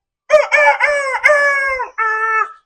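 A person's voice imitates a rooster crowing in a comedy sketch: several loud, close, drawn-out rising-and-falling calls with a short break before the final one.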